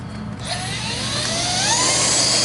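A bagless vacuum cleaner switches on and runs close by, its motor rising in a whining pitch over the first second and then holding a loud, steady roar.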